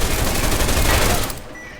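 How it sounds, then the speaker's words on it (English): Rapid gunfire with armor-piercing bullets sounds against a turret in the video game Deus Ex: Mankind Divided, a dense loud burst of close shots that cuts off after about a second and a half into faint quiet. "we've used an EMP frag grenade to disable the turret and armor-piercing bullets to destroy it"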